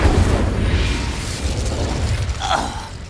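Incendio fire spell cast in Hogwarts Legacy: a loud, rumbling whoosh of magical flame with a burst-like pop near the end, sustained over about three seconds without any talking.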